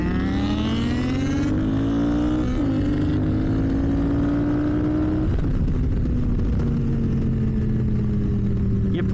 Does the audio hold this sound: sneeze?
no